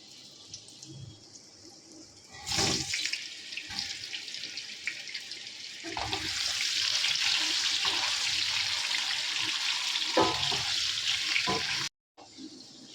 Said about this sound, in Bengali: আলুগুলো দিয়ে দিচ্ছি ভাজতে